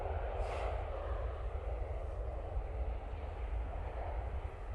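A Pilatus PC-24 business jet approaches Manchester Airport, giving a steady, broad roar of engine noise that holds at an even level from start to finish, with no voices.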